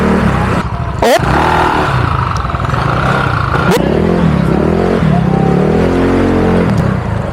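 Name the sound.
motorcycles revving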